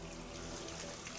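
A faucet runs steadily in the video game Hitman, a continuous close hiss of pouring water with no break across the short moment.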